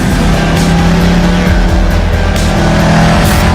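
A Dodge Challenger drives hard with a loud, dense engine roar close by. Tire squeal and rumbling fill the whole stretch without a break, and there is no talking over it.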